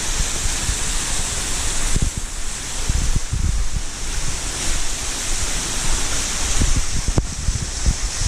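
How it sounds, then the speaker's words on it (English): Waterfall at McConnells Mill State Park, a tall drop of roughly 60 to 70 feet, pouring as a steady broadband roar with wind buffeting the microphone. "there's a waterfall"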